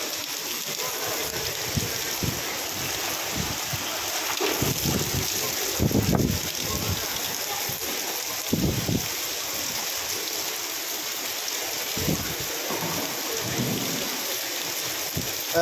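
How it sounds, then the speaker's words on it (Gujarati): Heavy rain pours steadily in Rajkot, a dense continuous hiss with low thunder rumbles rolling in at intervals, loudest around the middle, with no talking. "આ તો અત્યારે પાછો વરસાદ આવ્યો"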